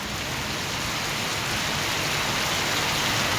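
Steady rain falls continuously, a dense even hiss of drops on surfaces with no pauses and no voices.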